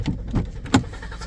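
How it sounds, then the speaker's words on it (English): A Volvo V60 D3 diesel engine cranks without catching, giving a short sequence of rhythmic low starter churns with one sharper peak, heard close and fairly loud. "It cranks like this. You can hear the crank."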